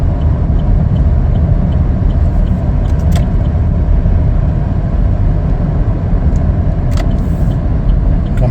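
A 2021 Chevrolet Blazer LT driving on the road, heard from inside as a steady, loud low rumble of engine and tire noise that holds constant throughout, with no voices.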